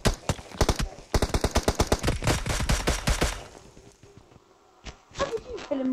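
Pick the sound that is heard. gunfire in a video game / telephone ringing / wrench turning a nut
gunfire in a video game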